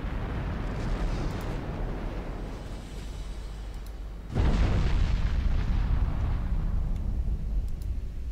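A torpedo hit explodes on a warship in the Ultimate Admiral Dreadnoughts naval video game, one heavy booming blast breaking out midway over a steady rumble of battle.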